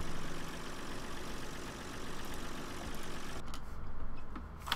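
Small tractor engine idling in Farming Simulator 2013, a steady low mechanical rumble held close and constant throughout, with no talk over it.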